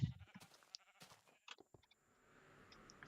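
Sheep bleating on a farm in the video game Minecraft, several short calls scattered among other in-game sounds, fairly faint, with low background noise filling the final second.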